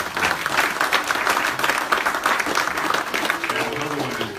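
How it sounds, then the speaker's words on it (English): A crowd in a high school setting claps loudly and continuously for a guest being honored, with a voice briefly audible beneath the applause near the end. "Round of applause for Jason Barrickman"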